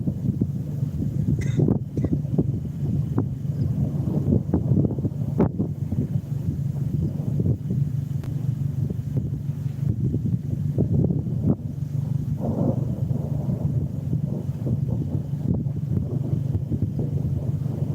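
Strong, steady wind roars and buffets the microphone during a storm chase in eastern New Mexico, a cold outflow wind shift near a supercell, with continuous low rumble and gusty bursts throughout.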